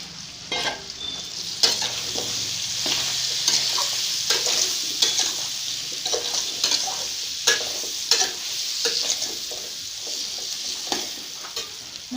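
Jackfruit curry in Assamese style sizzles steadily in a pan while a spatula stirs it, scraping and clicking at irregular intervals over the constant hiss, close and alone.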